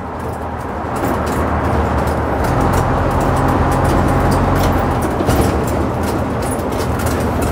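An Atkinson bus with a six-cylinder engine drives along, its steady, loud engine rumble and road noise filling the cab throughout with no one talking.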